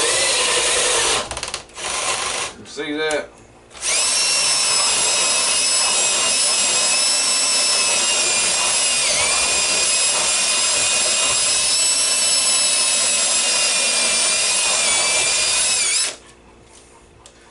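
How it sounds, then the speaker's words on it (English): A power drill whines steadily for about twelve seconds as a 2 1/8-inch hole saw grinds through cedar wood for a bluebird house, after a few short starts; a brief voice is heard near the start. "Now this is a 2 1/8 hole saw that we're using to do this with."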